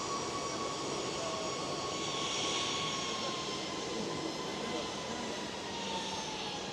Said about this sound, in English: EasyJet's Airbus A320neo has arrived.